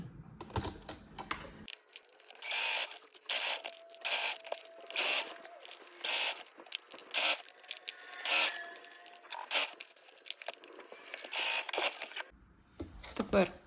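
Sewing machine stitching fabric and bias binding without stretching either, with repeated short bursts of close mechanical whirring separated by brief pauses.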